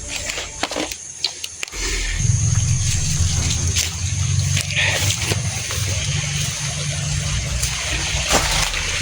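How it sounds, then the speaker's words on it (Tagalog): A normally dry creek runs with water after heavy rain: a loud, close, continuous rushing and gurgling that sets in after a brief quieter opening and holds steady to the end. "may tubig na po yung sapa na walang tubig kasi umulan kanina ng malakas"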